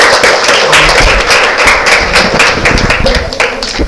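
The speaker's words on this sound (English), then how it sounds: "Huge applause." Audience applause at a staff recognition event, dense broadband clapping with sharp individual hand claps sustained steadily throughout, close and loud with no talk.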